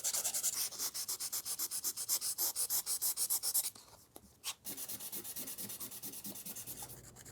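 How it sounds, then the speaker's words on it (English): Filler on a lightsaber prop is sanded by hand with 220 grit sandpaper in quick, even back-and-forth strokes, close and steady, with a short pause partway through before the rubbing resumes. "I'm sanding away everything except for what is down in the indents"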